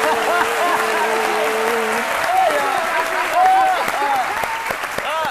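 Applause from an audience in a studio, a continuous patter of clapping hands running throughout, with a voice speaking over it.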